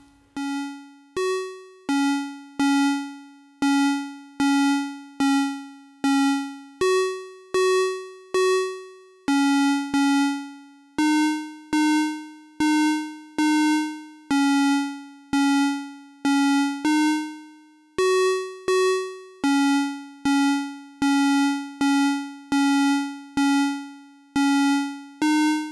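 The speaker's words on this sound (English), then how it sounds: "so it's basically a square wave sound that you hear" Bright square-wave notes from an Erica Pico wavetable VCO run through a low-pass gate, each plucked tone decaying quickly in a repeating rhythmic sequence that shifts among a few pitches.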